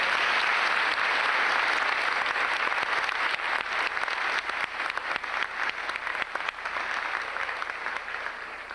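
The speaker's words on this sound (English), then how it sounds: "Let's give them a round of applause" Sustained applause from a large crowd at a middle school graduation, steady and fairly loud throughout, thinning slightly toward the end.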